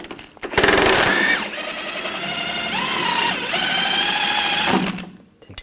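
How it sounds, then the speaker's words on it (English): A power tool spins an 18mm socket on the nut of a front upper control arm bolt on a 2004-2009 Audi A4 Quattro, whirring loudly in a high, steady whine for about four seconds before stopping. "I'm going to take this bolt out using an 18mm wrench on the nut"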